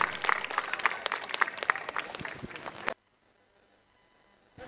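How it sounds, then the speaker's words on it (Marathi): A crowd at a memorial trophy prize distribution ceremony claps in dense, lively applause for about three seconds, then it cuts off into near silence. "जोरदार टाळ्या होऊन जाऊ द्या मित्रांनो ताईसाठी."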